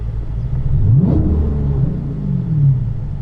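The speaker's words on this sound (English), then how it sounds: "So we're gonna give it a few revs just to like test it." Dodge Challenger with a Whipple supercharged 426 engine revving up at idle, a loud close rumble that swells in a quick rev near the middle, drops back, then rises again briefly toward the end.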